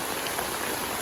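Steady rain falls at a village home after a heavy pre-dawn downpour, a dense, even hiss of drops on surfaces, close and unbroken for a brief moment.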